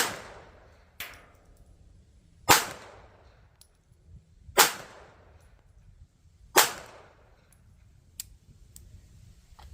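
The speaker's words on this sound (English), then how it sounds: "I'll shoot the number 1 target. That's on the 4 there, the top left." Sharp single gunshots from a North American Arms Guardian .32 ACP pistol at a range, four main reports spaced about two seconds apart with fainter distant shots between, each decaying quickly into quiet.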